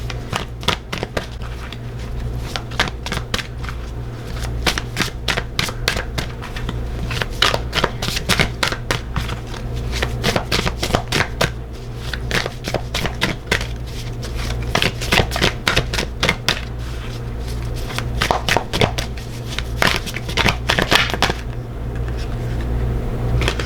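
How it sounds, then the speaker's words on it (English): Tarot cards are shuffled by hand for a long stretch, a rapid crisp riffling and flicking that repeats in dense bursts, close and steady with no voices. "So I'll just shuffle. You can fast forward the shuffling if it's boring."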